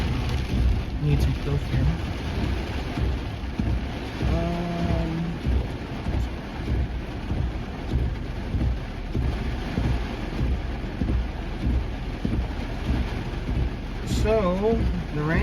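Steady hiss of rain falling during a storm in South Sioux City, Nebraska, mixed with wind buffeting the microphone, continuous and fairly loud, with someone talking over it.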